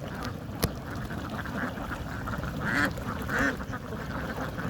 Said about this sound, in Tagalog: itik na puti